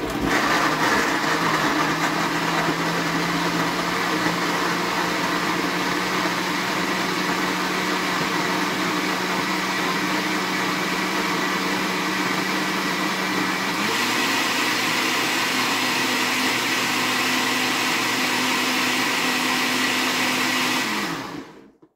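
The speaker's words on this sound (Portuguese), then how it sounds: "Coloca aqui no liquidificador e vamos coar." An electric blender runs loud and continuous while blending mango and water into juice, a steady motor whir that shifts pitch partway through, then cuts off abruptly at the end.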